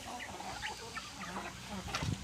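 Domestic turkeys on a rural homestead give soft, scattered clucks and gobbling calls at moderate distance, repeating irregularly through a short stretch with no talking.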